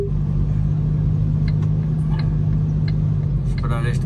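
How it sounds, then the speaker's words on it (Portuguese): A truck rumbles past at close range, a loud continuous low engine drone with a steady hum that holds throughout, while a voice is faintly present in the background. "Esperar este caminhão passar,"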